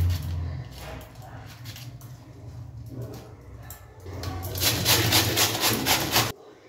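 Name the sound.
grating bottle gourd into thin shreds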